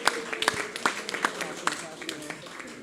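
Applause at a BLP Christ Church East branch meeting: a small crowd clapping unevenly in scattered, sharp claps, moderately close, fairly sparse rather than a dense roar.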